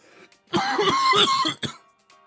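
A person has a coughing fit up close: a few quick throat-clearing bursts, then a long harsh run of coughs, a pause and one last sharp cough.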